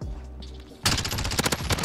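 P90 submachine gun fire in Modern Warfare: after a quiet lead-in, a rapid burst of automatic shots rattles loud and close for about a second.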